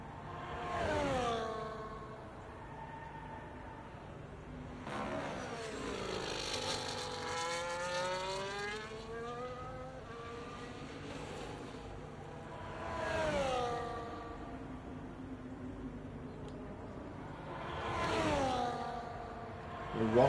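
A McLaren race car in a racing game, on medium tyres, runs down the final back straight at Bahrain. The engine whines steadily and rises through repeated upshifts, with a commentator talking over it.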